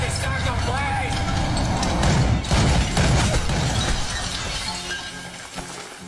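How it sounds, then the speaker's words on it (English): A statue shattering into pieces in a horror film scene set in Mexico, a loud crashing burst of breaking material amid a dense, continuous mix of dramatic sound and voices. "The statue shattered into pieces."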